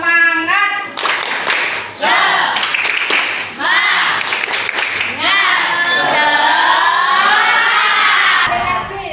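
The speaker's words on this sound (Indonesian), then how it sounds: "Tepuk semangat." Schoolchildren in an Islamic religious education class shout and clap together in a rhythmic spirit clap, loud and close, with a teacher's voice leading between bursts of children's chanting.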